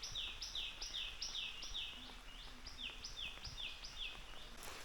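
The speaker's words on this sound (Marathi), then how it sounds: "सकाळीच पक्ष्यांचा किलबिलाट आहे." Morning birdsong in rural Konkan: a bird repeats a quick, bright chirping phrase about a dozen times in a steady rhythm, faint and somewhat distant, over a quiet outdoor background.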